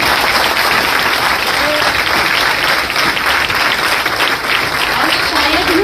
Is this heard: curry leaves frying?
no